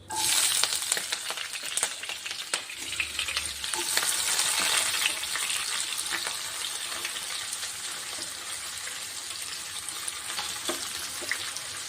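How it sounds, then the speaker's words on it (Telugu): Onions fry in hot oil in a kadai, a loud, close, continuous sizzle and crackle that stays dense and steady from start to finish. "ఇప్పుడు కడాయి పెట్టుకున్నాను సో దీంట్లో ఆయిల్ హీట్ అయింది ఓకే ఆనియన్స్ వేస్తున్నాను"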